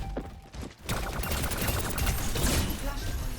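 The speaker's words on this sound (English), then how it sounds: "Good job shooting the Moira." Gunfire from the shooter game Overwatch, aimed at the character Moira during a competitive match, comes as a dense continuous rattle of rapid shots with busy game effects, following a brief quieter start.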